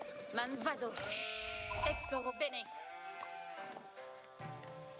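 Sheep in the Age of Empires video game bleat in several short, wavering calls, with a caster talking steadily over them during a competitive match.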